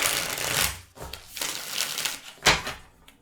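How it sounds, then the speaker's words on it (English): Tarot cards being shuffled by hand at close range: bursts of papery riffling and flicking with a few sharper slaps, loud and uneven, with no talking. "I gotta shuffle this out."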